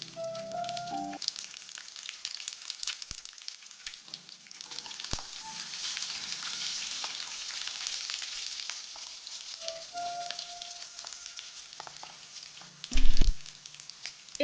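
Dried red chillies and garlic fry in oil for a bitter lemon pickle, giving a soft steady sizzle with occasional light clinks and a brief thud of stirring near the end.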